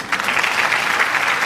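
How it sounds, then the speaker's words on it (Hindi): Audience applause fills the whole moment, steady and dense, with many hands clapping at once and no voices above it. "तालियों की गड़गड़ाहट के बीच मेरे कानों में कुछ गालियों की भी आवाज आई है।"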